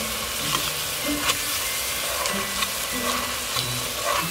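Ground beef browning in a pan sizzles steadily, with a constant frying hiss and occasional scrapes and stirs from a utensil, close and fairly loud with no talking.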